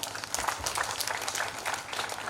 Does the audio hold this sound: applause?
yes